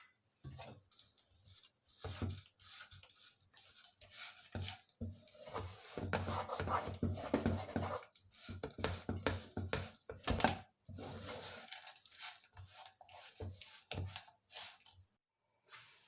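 Grated coconut and crushed, roasted dry fruits are stirred together in a pan for vegan modak, making soft, uneven scraping and rubbing strokes that come in close bursts with short pauses and no voices.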